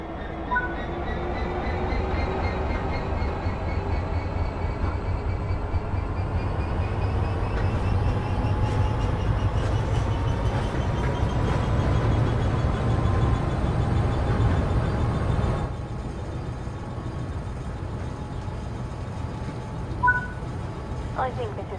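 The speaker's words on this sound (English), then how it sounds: "Now apply some power and get this train moving" A Great Western Express train pulls away under power in Train Sim World 3, a steady low engine rumble with rising tonal whine and faint clanks building over about fifteen seconds, then easing to a quieter hum.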